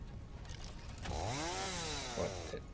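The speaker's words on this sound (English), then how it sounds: "Put your chainsaw away." A chainsaw in the video game Satisfactory revs up and holds a loud, rising whine for about two seconds, then cuts off near the end, with no speech.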